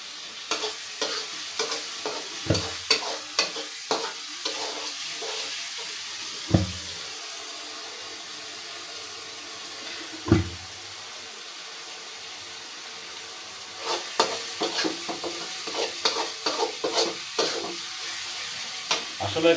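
Spice masala frying in oil and being stirred, with a steady sizzle under clusters of scraping and clattering spoon strokes that come in quick runs and occasional single knocks, with no talk.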